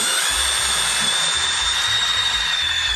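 A cordless drill whirs loudly and continuously at close range, boring starter holes for a cutting blade in a Club Car DS golf cart body, its high motor whine steady while the low-end load shifts as it bores.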